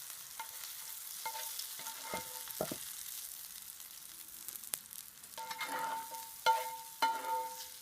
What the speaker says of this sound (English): I'm going to take our mushrooms off the heat and put them in this bowl